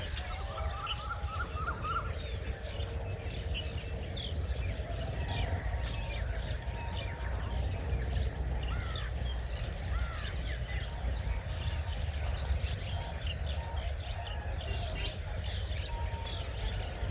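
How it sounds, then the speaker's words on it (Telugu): Birds perched on wires by the Krishna River chirp and caw, some calls crow-like, over a steady outdoor hum. The calls come repeatedly at moderate distance throughout. "అవన్నీ పిట్టలే."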